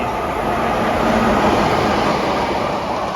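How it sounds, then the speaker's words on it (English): A freight train rushes past at speed, a loud, steady, broadband roar of wheels and wagons that holds for over three seconds without any voices. "They're flying through the high and low levels quite quickly today, the freight is"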